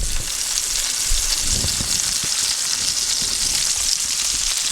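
Lemon slices sizzling in hot fat in a pan for chicken francese, a loud, steady crackling fry with a few faint clinks and shuffles as the slices settle.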